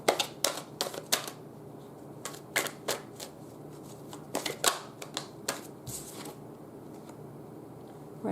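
Tarot clarifier cards are shuffled and drawn, producing a series of crisp, close snaps and riffling clicks in irregular bursts, separated by quiet pauses.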